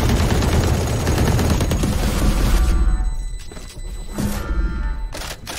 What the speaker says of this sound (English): Suppressing fire in 3, 2,